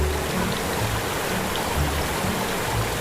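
Steady rushing of flowing water, like a stream or waterfall, in the Walkabout Mini Golf video game's welcome island course, a continuous broadband wash heard alone at a fairly close, even level.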